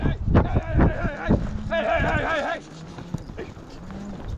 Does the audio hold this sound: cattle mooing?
yes